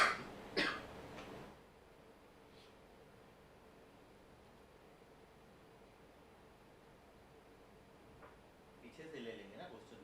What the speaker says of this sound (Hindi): खांसी आ रही है उनको।